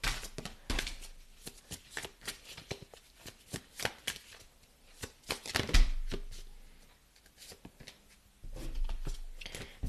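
Oracle cards shuffled by hand, a steady run of soft papery riffles and flicks with sharper slaps and bursts of card edges, fairly close and with no talking.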